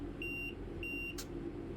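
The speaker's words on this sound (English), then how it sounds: "Why is that beeping so loud everywhere, right? If I can turn off AWS." Two evenly spaced electronic warning beeps from the AWS system in the Train Sim World 5 video game, clear steady tones over a low cab hum, followed by a short click.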